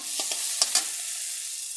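Turmeric goes into a spice paste frying in a pan for a pineapple hilsa dish, giving a constant close sizzle with a couple of quick spoon taps partway through.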